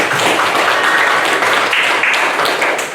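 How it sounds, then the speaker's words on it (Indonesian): Students in a classroom break into loud, close applause, a continuous rush of clapping hands that holds for a few seconds. "Tepuk tangan lagi."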